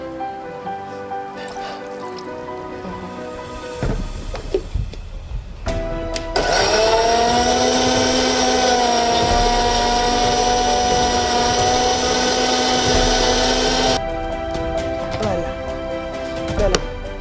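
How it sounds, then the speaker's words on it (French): A kitchen blender whirs steadily for about eight seconds as it purees washed African basil leaves with a splash of water, starting abruptly after some handling noise and cutting off cleanly. "Un mixeur qui est bien adapté à nos feuilles, à nos basiliques africains."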